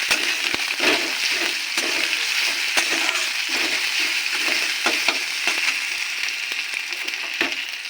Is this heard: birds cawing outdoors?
no